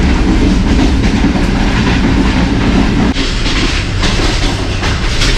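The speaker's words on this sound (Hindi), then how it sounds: "ट्रेन हमारी वज़ीराबाद जंक्शन की तरफ बढ़ रही है।" A morning passenger train heading toward Wazirabad Junction rumbles steadily along the rails, loud and close from inside an air-conditioned parlour car, with continuous clickety-clack and wheel noise and no talk.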